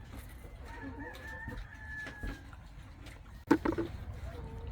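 Farm chickens cluck and scratch about while a rooster lets out a drawn-out crow, followed by a sharper burst of clucking. The sounds are moderately close over a soft outdoor background.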